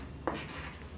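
Chalk or marker writing on a board in a math lesson, with two short scratchy strokes about three-quarters of a second apart under a faint background hum.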